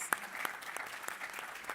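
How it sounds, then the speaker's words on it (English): A conference audience applauds panelists leaving the stage at an FHS Africa panel discussion, a fairly light, thin round of clapping with a few distinct sharp claps standing out over a soft spread of hands. "So a round of applause, please,"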